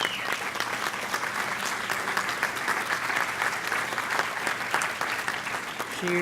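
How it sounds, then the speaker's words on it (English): A Faculty Senate audience gives a colleague a round of applause, dense and steady clapping from many hands filling the room at an even level. "Give her a round of applause."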